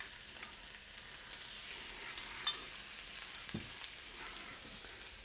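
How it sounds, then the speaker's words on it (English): Rice frying in oil in a pan for Peruvian chaufa, a very faint, steady sizzle with a couple of soft scraping stirs, quiet and close, and no speech. "put some more of this oil here to fry the second and final batch of rice"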